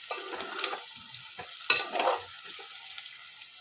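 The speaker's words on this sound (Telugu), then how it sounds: "ఉల్లిగడ్డ, పచ్చిమిర్చి ఎర్రగా వేగిపోవాలి ఫ్రెండ్స్" Onion and green chili fry in a pan, a soft steady sizzle broken by a few scraping stirs and one sharp metallic clink.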